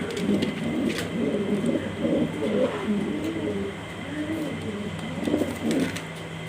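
A male pigeon coos repeatedly in low, throaty bursts at close range, over a steady background hum.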